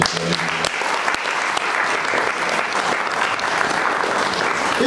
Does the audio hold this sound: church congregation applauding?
yes